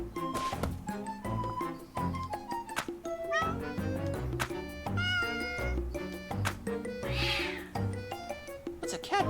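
A cat meows repeatedly in an RPG video game, with overlapping meows and caterwauls laid over busy game music that runs throughout.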